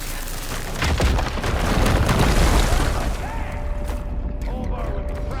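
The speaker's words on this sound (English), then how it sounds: "An explosion." Deep explosion in the video game Horizon Burning Shores, a loud rumbling boom that swells and lingers with debris-like crackle before fading under lighter game effects and tones.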